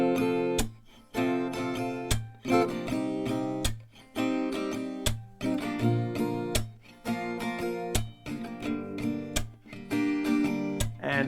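Acoustic guitar strums one round of the chorus chord progression of a song, rhythmic strummed chords with steady changes, close and clear, played alone without talking.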